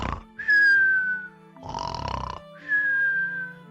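A person fakes loud, whistly snoring: two long rasping snores with a high whistling tone, separated by a rougher snort-like burst. A human voice imitates the snoring, and no words are spoken.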